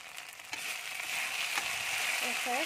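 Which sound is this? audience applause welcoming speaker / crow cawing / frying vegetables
frying vegetables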